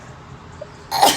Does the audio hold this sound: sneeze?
yes